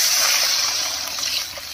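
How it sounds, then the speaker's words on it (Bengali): Water pours steadily into a pan of spiced masala fried until the oil separates, making the gravy for a fritter (bora) curry; a close, continuous rushing splash with no talk. "এবারে ঝোলের জন্য জল দেব।"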